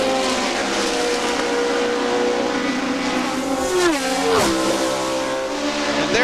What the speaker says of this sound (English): you could hear that it's a much lower and throatier sound than those running the 180-degree crankshaft